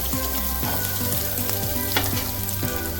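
Green chillies frying in oil in a pan for masala upma, a dense, close sizzle with crackling and spatula scrapes, no talking.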